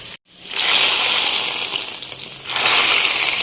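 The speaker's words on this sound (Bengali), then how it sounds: "এখন একটু বেরেস্তা করে দিব এই জন্য একটু পেঁয়াজটা ভেজে নিচ্ছি" Onion frying in hot oil for beresta, a steady close-up sizzle that eases briefly before swelling back to full strength.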